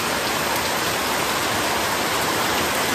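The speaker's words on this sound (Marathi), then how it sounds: "पाऊस चालू झाला." Steady rain pours down in the Konkan countryside, a dense even hiss of drops on surfaces, loud and continuous with no voices.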